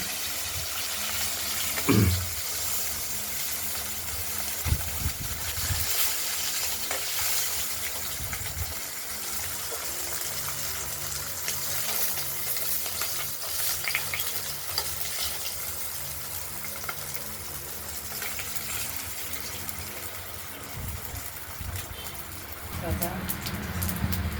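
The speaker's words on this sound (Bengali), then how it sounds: "মাছগুলো ভাজা হয়ে গেছে, আমরা এক এক করে তুলে নেব।" Katla fish frying in hot oil in a home kitchen, a steady close sizzle and crackle that continues throughout with small bursts of spatter.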